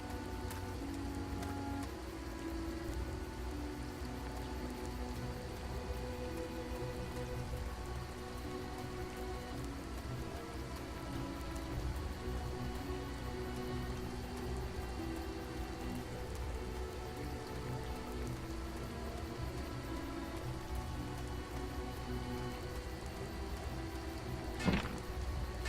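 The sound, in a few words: rain falling in video game Edge of Eternity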